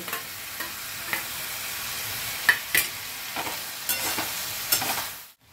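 Mutton keema stir-fried in a pan, with a steady close sizzle broken by repeated scraping strokes of a spatula and a few sharp clicks against the metal, and no one talking.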